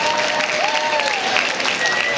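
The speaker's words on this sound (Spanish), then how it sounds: "Un fuerte aplauso para ella." Applause for a woman at a Japan-themed weekend event, a steady wash of clapping from a crowd lasting the whole stretch, with some voices mixed in.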